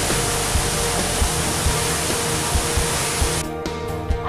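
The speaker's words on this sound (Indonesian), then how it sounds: "Hamparan bebatuan dan air terjun yang jernih melengkapi indahnya wisata ini." Curug Gede waterfall in Banyumas, Indonesia, roars in a steady, dense rush of falling water over rocks, loud and close, continuing without a break.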